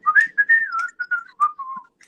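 A person whistles a short wavering tune, clear and close, with a few brief pauses between phrases.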